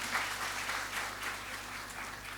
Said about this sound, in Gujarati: એના માટે તુલસીભાઈ માટે જરા તાળી વગાડી દો.